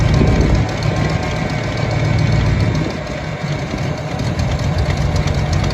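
A 1988 Ford F-250 engine that had sat for over a decade runs steadily with a loud, rough, continuous rumble close by, with no talk over it.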